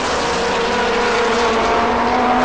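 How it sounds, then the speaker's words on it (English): Ferrari GT race cars roar past at Vallelunga during a 2007 GT Open race, a loud continuous engine drone with steady high-pitched tones filling the whole stretch, no talk over it. "And more Ferraris are battling here."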